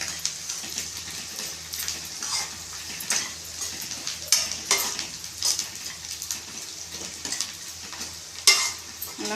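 Bitter gourd curry sautéing in a pan: a continuous close sizzle with soft crackles, broken by repeated scraping and clinking strokes as the mixture is stirred, with no talk.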